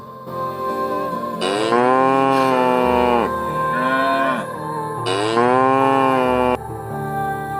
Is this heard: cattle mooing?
yes